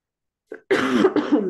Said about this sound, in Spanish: Discúlpenme ustedes la tos.